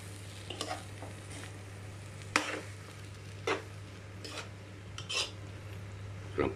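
Bopis being stirred in a cooking pan: a steady low sizzle under scattered scraping and clinking strokes of a utensil against the metal, some sharper and louder than others, close up with no talking.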